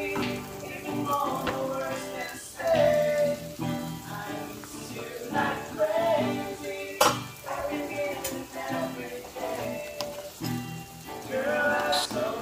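Shrimp cake frying in a pan in a home kitchen while a pot of pansit molo soup cooks nearby: a steady, soft sizzle with scattered clinks and scrapes of utensils against cookware.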